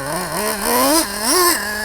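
Traxxas Revo 3.3 nitro RC monster truck engine idling alone, a high buzzy two-stroke drone that swells in two short blips of throttle before settling back to a steady idle.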